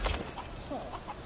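A chicken clucking in the video game Rise of the Ronin, a few soft short clucks over a faint background hum, brief and fairly quiet.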